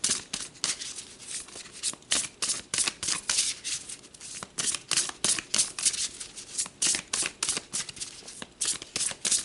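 Playing cards shuffled again and again in a tarot-style reading, a steady run of crisp, papery riffles and flutters heard close up with no talking.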